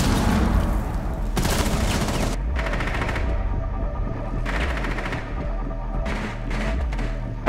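Rapid automatic gunfire in Rainbow Six Siege tears into a soft wall in several long bursts separated by short pauses, loud and close with thumping impacts.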